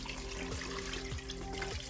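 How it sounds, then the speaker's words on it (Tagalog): A steady rush of water pours continuously for a couple of seconds into a pot of meat for balbacua to be slow cooked. "Lalagyan ko lang siya ng tubig."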